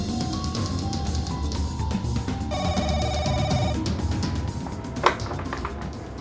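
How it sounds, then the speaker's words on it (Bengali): A landline telephone rings in a short electronic burst partway through, over steady background noise in a room. "আমি ল্যান্ড ফোনে ফোন করি প্লিজ"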